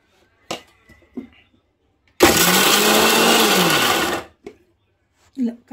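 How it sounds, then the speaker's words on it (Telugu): A kitchen mixer grinder whirs loudly for about two seconds while grinding corn kernels, its pitch sagging and rising under load, then cuts off, with brief clatter and handling noises before and after. "కొన్ని మిక్సీ పట్టుకోవాలండి."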